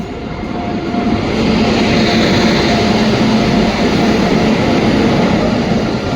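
The Basava Express, hauled by a WAP7 electric locomotive with old LHB coaches, rolls past in a loud, steady roar of rails and wind that swells in the first second and then holds.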